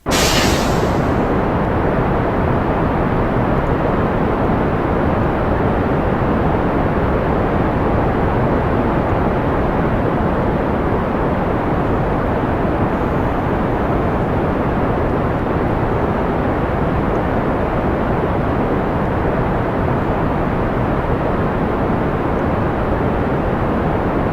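Rocket engines throttle up at launch in Kerbal Space Program, a loud, dense, continuous roar that stays steady and broadband from start to finish with no talk over it.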